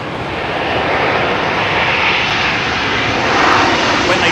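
Airliner landing on runway 27L at London Heathrow, a loud, continuous, broadband engine roar close by that swells slightly as the aircraft passes, with no speech.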